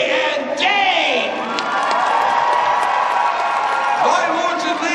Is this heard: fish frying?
no